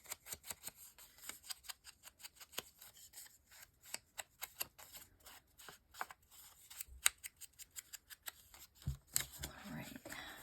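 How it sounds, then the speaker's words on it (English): Scissors snipping a notch out of a book page, a string of short, crisp paper cuts and rustles close by, irregular and quick. "maybe I'm gonna have to cut out the notch"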